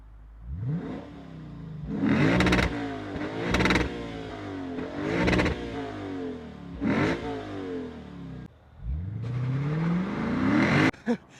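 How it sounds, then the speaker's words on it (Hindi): A Lexus IS 500 F Sport V8 with quad exhaust revs repeatedly from idle, each throttle blip rising and falling in pitch, about six loud, close bursts with a long sustained rev near the end, no talk. "ऑल द वे आप रेव कर सकते"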